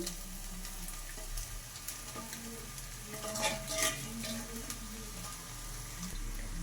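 Cooked rice is tipped into a pan for mango rice and stirred, giving a soft steady scraping and faint sizzle with a few light knocks, quiet and close, with no talking.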